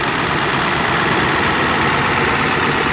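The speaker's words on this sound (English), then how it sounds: "somebody must have played with the injector timing and advanced it a bit, because it always rattles like this" A tired truck engine idles with advanced injector timing, giving a loud, close, steady rattling clatter. The broadband knocking drone runs unbroken throughout with no voices over it.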